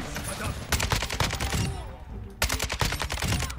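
Rapid bursts of shotgun gunfire in Call of Duty MWII, two dense clusters of loud sharp blasts separated by a brief lull, with a voice talking faintly beneath.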